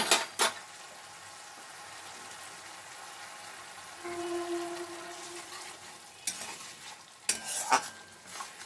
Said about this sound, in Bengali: টমেটো আদা আমি খুব ভালো করে এর সাথে আমি ভেজে নেব